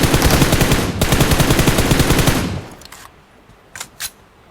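Rapid automatic gunfire in the mobile battle royale game Battlegrounds Mobile India on the Erangel map, a loud sustained burst for over two seconds, then quiet with two or three sharp single shots.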